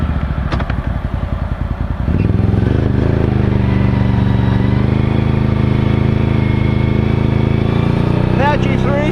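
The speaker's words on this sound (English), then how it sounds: "Apache 360's just idle right there" A vehicle fitted with Apache 360 snow tracks sits in deep snow, its engine first chugging in a rapid, even beat, then settling into a louder steady drone, with a voice speaking over it near the end.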